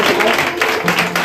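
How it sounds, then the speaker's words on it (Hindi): A church congregation clapping loudly together, a dense, steady wash of applause filling the whole moment at close range. "हम दोनों ताली बजाएं खुदा के लिए जोरदार ताली बजाएं"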